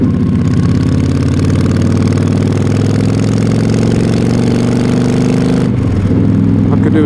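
Yamaha XVS 1300 motorcycle engine running at a steady idle, a loud, continuous low rumble close by that holds level for several seconds before changing near the end.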